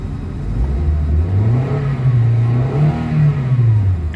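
A Toyota Avanza with low power and delayed throttle response revs hard up to about 4,000 RPM, its engine note rising and swelling, dipping, then climbing again, loud and close, with no talk over it.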